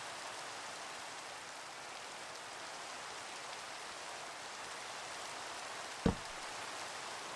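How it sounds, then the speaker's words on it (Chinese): Steady rain falls in the video game Minecraft, a soft, even hiss that runs the whole time, with one short thump near the end and no talking. "还在下雨，没关系。"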